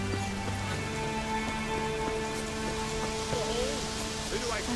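Steady storm rain in The Witcher III, a continuous even hiss of heavy downpour with faint game tones and background hum, no voice present.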